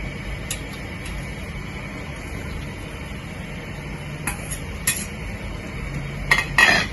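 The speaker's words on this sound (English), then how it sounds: "in the beginning, you have to stir it, okay, so that the rice will not stick to the bottom" A spoon stirring rice in a metal pot of boiling water for salted pork congee, light clinks and scrapes at irregular intervals over a low steady background hiss.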